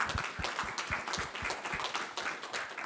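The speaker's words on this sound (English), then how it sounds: "Round of applause for the panelists" Audience clapping after a panel discussion, a steady, dense round of applause with individual claps audible, moderately loud and continuous for the whole few seconds with no talk over it.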